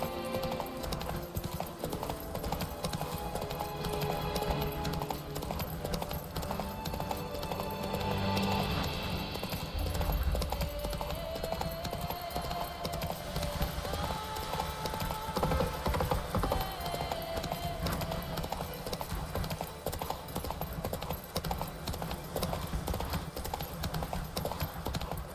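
Horse hooves clip-clop steadily in The Witcher 3 game for a long stretch, a close, continuous rhythmic trotting under game music and ambient sounds, with a brief whinny.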